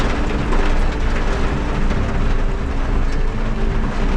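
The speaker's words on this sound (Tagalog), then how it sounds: "Sobrang lakas ang ulan." Heavy typhoon rain pounds steadily and loudly on a minivan, a dense unbroken roar of drops close by, with no voices.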